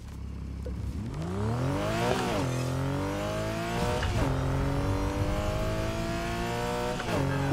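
Racing car engine in Need for Speed: Heat revving hard through repeated gear shifts, pitch climbing and dropping with each change, loud and close throughout.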